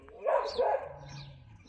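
A white stray dog lets out two short, fairly close barks in quick succession, the second slightly softer, followed by a faint trailing whine; no one speaks during the barks.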